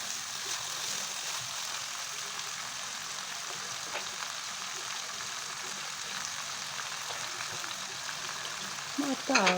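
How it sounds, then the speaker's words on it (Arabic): Half a kilo of small-cut sausage pieces sizzle steadily in a hot pan, a continuous bright frying hiss with faint stirring clicks, ending in a brief louder scrape near the close. "اكون مقطعه السجق قطع صغيره كده وحطاه، ده نص كيلو سجق، واشوحهم مع بعض لغايه لما السجق ده يدبل ولونه يتغير"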